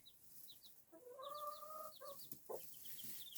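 Hens clucking among three-day-old chicks, with soft low clucks from the hens and high peeping from the chicks scattered throughout, fairly quiet and close.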